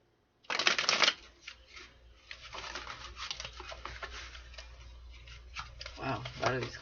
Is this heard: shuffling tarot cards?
yes